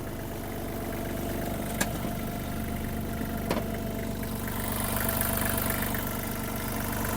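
A Kubota GL-261 tractor's 1.5-litre D1503 diesel engine idles steadily and evenly at close range, a continuous low rumble with a couple of brief sharp knocks, and no talking.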